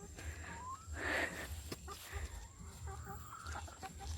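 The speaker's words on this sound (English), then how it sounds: "So this is our chicken run." Chickens cluck and call in a backyard chicken run, with a brief louder squawk near the second mark and scattered softer clucks over steady outdoor background noise.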